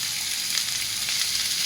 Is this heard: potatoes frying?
yes